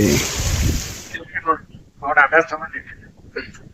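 Strong monsoon wind sweeps across an open farm field, a loud, rough buffeting gust for about a second before people start talking.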